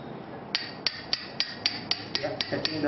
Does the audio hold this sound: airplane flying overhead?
no